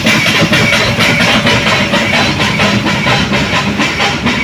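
The Neelakurinji mountain train climbs uphill near Coonoor, giving a loud, close, rhythmic pulsing hiss that repeats steadily throughout.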